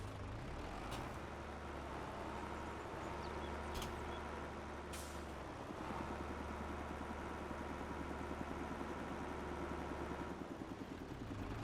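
Heavy vehicle engine in a logging video game, a steady low diesel drone with a faint hiss and occasional short high bursts, suggesting a compressor or air brake, running continuously and fairly loud throughout.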